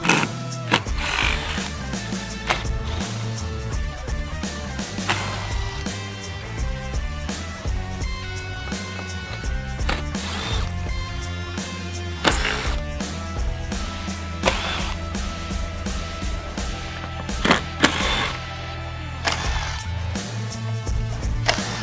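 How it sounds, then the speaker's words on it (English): A ratchet wrench works the bolts of the factory roof rack on a 2001-2007 Toyota Sequoia, giving long runs of close, rapid clicking with metallic knocks and pauses between turns, over faint background music. "Now we're gonna remove the bolts to get the factory rack removed."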